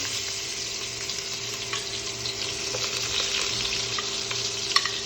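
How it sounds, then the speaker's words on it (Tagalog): Bell pepper, ginger, onion, garlic and chili sauté in hot oil with a steady, close sizzle and occasional stirring scrapes throughout, with no voices. "So meron tayong bell pepper, ginger, onion at saka garlic, saka chili. So ayan mga kalods, gisa na natin yan."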